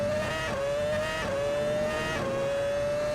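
A Formula 1 car's engine screams at high revs in the F1 2006 remaster mod racing game, holding a steady sustained whine with brief dips at gear changes. The sound is loud and continuous, with no talking.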